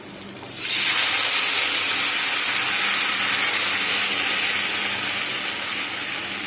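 A whisked buttermilk mixture is poured into a hot pan of fried chillies for mor kuzhambu, setting off a sudden loud hissing sizzle that holds steady and slowly eases.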